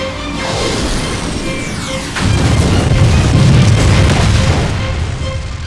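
Heavy booming blasts and crashing impacts from weapons fire in an anime space battle, loud and continuous with dense rumbling bursts throughout and a sharp surge partway through.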